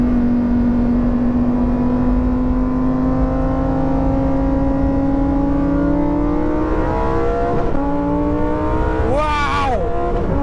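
A Lamborghini Huracan STO race car laps Sepang International Circuit, its engine holding a loud sustained whine that climbs steadily in pitch, then drops sharply and rises again during quick shifts near the end.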